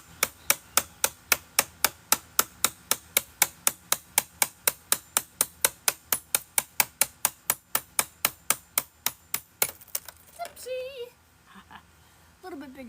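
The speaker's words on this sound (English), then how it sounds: "a little bit bigger chisel would make that easier too" Chisel hammered against Dell blade server modules being scrapped for e-waste, a rapid, steady series of about forty loud, sharp metallic strikes, followed by scraping and light clatter at the end.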